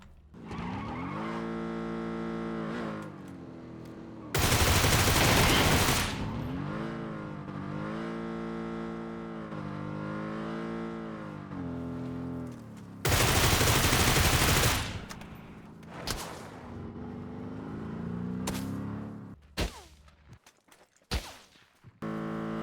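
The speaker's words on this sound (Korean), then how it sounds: "여기서 뿌직뿌직 쏘고 있네요" Gunfire in a shooting video game: two long loud bursts of automatic fire stand out over a steady droning engine-like game background, followed later by a few sharp isolated shots that trail off near the end.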